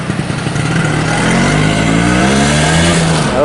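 A 1995 Vespa scooter engine revs up hard, rising in pitch over a few seconds, loud and close with no talking.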